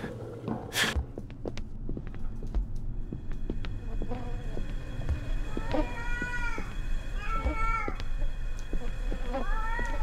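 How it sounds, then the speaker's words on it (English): Cats in the horror video game Erie meow repeatedly, sliding plaintive calls at a moderate distance over a steady low hum, with a faint voice audible briefly. "Cat, please. I don't know where you are anymore, cats."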